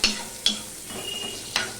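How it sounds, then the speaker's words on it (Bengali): Onion frying in a pan while fish eggs are cooked, a low steady sizzle broken by three sharp spoon scrapes or taps against the pan. "দেখো যে পেঁয়াজটাও আমি ভেজে নেব"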